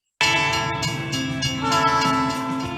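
A runaway train rumbles along railway tracks, loud and close, with a steady mechanical roar, rhythmic wheel clatter and a sustained horn-like tone throughout.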